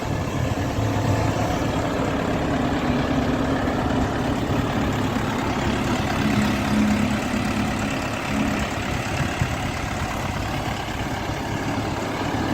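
An Orion RD 404 farm tractor running with a steady, low diesel rumble, an even and continuous engine sound that stays moderately loud without pauses or revving.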